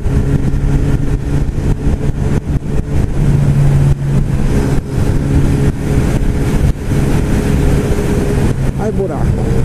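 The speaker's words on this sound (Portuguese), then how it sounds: "E deve estar fazendo muito barulho aqui. O vento aqui em Cabo Frio tá forte." Strong wind roars and buffets against the microphone of a rider on a motorcycle in Cabo Frio, Brazil, a loud, constant rumble with the engine droning underneath.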